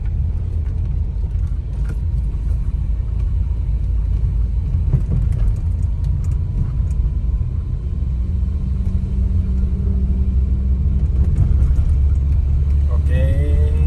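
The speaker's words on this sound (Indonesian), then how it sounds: "tuh RPM jadi tinggi banget ya" An old Volvo 960GL sedan engine straining at high revs while climbing a hill, a steady loud low rumble from inside the car, with a voice speaking over it.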